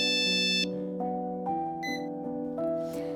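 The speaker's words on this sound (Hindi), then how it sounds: "फोन भी आ गया।" A mobile phone rings with a short electronic melody of stepped tones, fairly quiet and alone with no talking.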